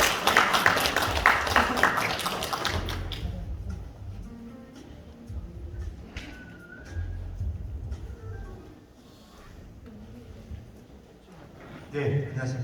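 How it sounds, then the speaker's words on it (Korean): A seated audience at a civic report meeting in a Korean hall breaks into a short burst of dense, loud applause. The clapping fades after about three seconds and quiet speech follows. "박수 부탁드립니다."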